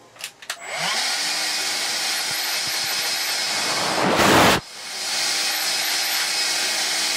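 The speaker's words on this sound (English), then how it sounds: "And in theory, I can now show you the suction, which isn't fantastic, but then it is only 192 watts." A Vax Air Cordless stick vacuum cleaner, rated at 192 watts, switches on after a few clicks and whines steadily, with a brief louder rush of airflow partway through before settling back to its running drone.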